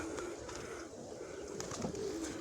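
Soft pigeon coos sound a few times over a quiet outdoor background, fairly faint and low-pitched.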